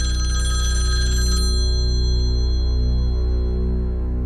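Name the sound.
telephone ringing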